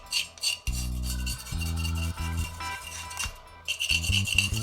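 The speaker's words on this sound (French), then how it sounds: "Donc je gratte d'abord mon émail, que je peux récupérer sans problème." Glaze being scraped off the bottom of a ceramic piece before firing, a close, gritty rasping in short repeated strokes with occasional faint clinks.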